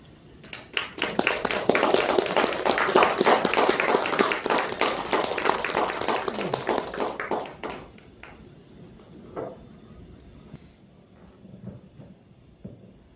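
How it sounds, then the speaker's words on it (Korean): Congregation applause welcoming a speaker to the front at a church Christmas service, a burst of many hands clapping for several seconds that tapers off, followed by quiet room sounds and a few soft knocks. "우리 박수로 환영합니다"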